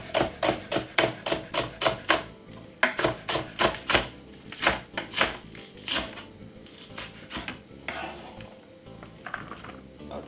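Kitchen knife chopping spring onion on a board, a rapid run of crisp rhythmic taps that slows into scattered knocks and scraping, close and clear with no voices.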